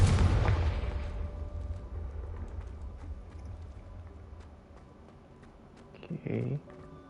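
A loud booming blast from the Confringo spell in Hogwarts Legacy, an explosion that fades into a lingering rumble, then quieter game ambience with a brief burst of sound near the end.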